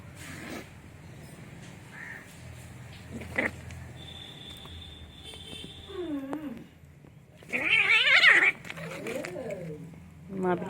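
Cats scuffle and fight at close range, with thumps, brief yowls and a loud shrill squeal, while a person talks over the commotion.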